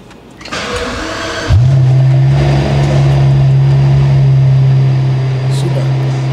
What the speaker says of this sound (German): So, jetzt wird das Auto nochmal gestartet mit der Klappe offen.